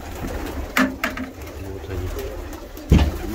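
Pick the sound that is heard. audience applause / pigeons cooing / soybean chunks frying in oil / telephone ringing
pigeons cooing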